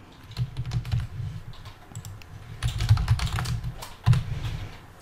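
Typing a URL on a computer keyboard: quick bursts of close, crisp key clicks with short pauses between runs of keystrokes and no talking.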